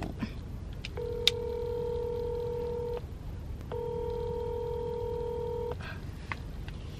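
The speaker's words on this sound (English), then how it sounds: "I'm finna call Juicy Crab so I can place my order" A phone line rings out as a call is placed to a seafood restaurant. Two long, steady ringback tones play with a gap between them, along with faint clicks and a quiet background.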